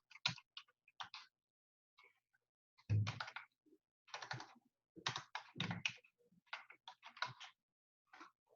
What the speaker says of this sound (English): I'm going to type it in here just so everybody has it.